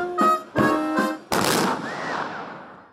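Loud ceremonial rifle volley shots by a military honor guard ring out in quick succession with a sharp crack and long echoing tail, preceded by a brief tonal sound.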